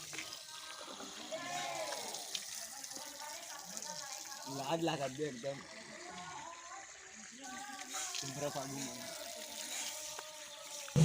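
Running tap water splashes and trickles steadily while someone washes their face outdoors in a village, with people talking and voices over the water throughout.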